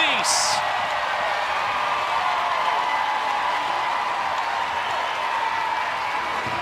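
Crowd applause at a college softball game between Omaha and Missouri, a steady wash of clapping and cheering that holds evenly throughout, with a brief bright burst near the start.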